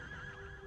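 A horse in a video game gives a brief, strained whinny, a wavering tonal cry set against a thick background mix.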